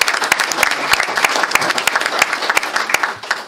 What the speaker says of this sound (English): So a round of applause to him as well.